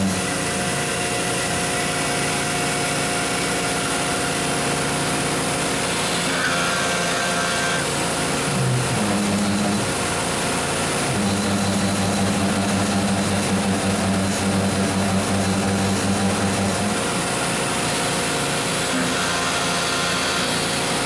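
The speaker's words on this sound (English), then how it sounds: "at various spots around the rotation, it's giving me this binding noise" Rotating all-metal blaster giving a binding noise: a continuous whirring, grinding mechanical drone with intermittent scraping tones at certain spots in the rotation, close and steady with no talking.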